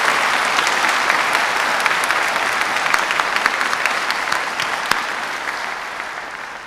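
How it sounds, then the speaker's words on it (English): Audience at a STEM high school graduation ceremony breaks into sustained, dense applause, loud and steady throughout with many hands clapping at once, only slightly thinning toward the end. "let's give them a big round of applause."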